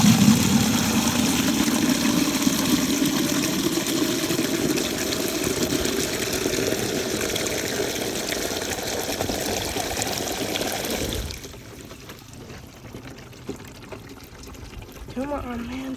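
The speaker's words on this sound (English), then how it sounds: "But the tank is overflowing." Water from a homemade 5-gallon toilet tank fills steadily and spills over as the tank overflows, a continuous loud rushing that cuts off near the end, followed by quieter ambience and brief bits of a voice.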